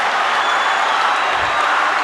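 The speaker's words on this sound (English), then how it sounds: "This crowd is worth a second in this race." Dense applause and roaring from a crowd at the 2006 Commonwealth Games men's 4x100 freestyle relay final fill the pool hall as a loud, even, continuous wash of noise.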